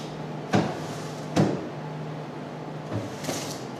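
Drawers on a hospital airway cart are pulled open and pushed shut in two sharp, close knocks early on, followed by fainter sliding clatter near the end, with no speech.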